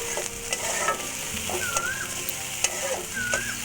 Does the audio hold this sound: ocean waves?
no